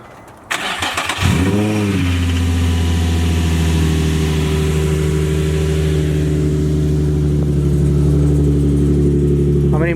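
A Nissan 350Z with a Blitz radiator cap cranks briefly and fires up loudly, then settles into a steady, deep idle up close for several seconds.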